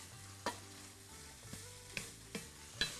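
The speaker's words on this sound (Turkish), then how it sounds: "Onları bir kavuruyorum." Peppers sautéing in a pot for chicken tas kebab give a low, steady sizzle, broken by several sharp clicks and scrapes of stirring spaced through the stretch, with no voices.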